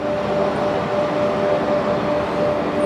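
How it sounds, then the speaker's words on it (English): The Eastern & Oriental luxury train rumbles steadily and loudly across the bridge over the River Kwai, a continuous rolling roar of wheels on track with a faint sustained tone running through it. "This is our train going across the famous bridge over the river Kwai"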